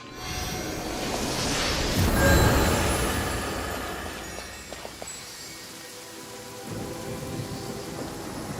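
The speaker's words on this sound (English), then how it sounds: "Rain." Rain and rolling thunder in a storm in the video game Genshin Impact, a dense steady downpour with a deep rumble swelling and fading, loud and close, with no talk.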